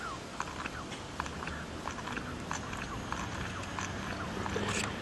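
A string trimmer's primer squeeze bulb being pumped by hand, giving a run of soft, squishy clicks at a steady rhythm over a constant background hiss.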